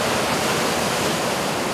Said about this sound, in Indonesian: Badai. Ombak besar.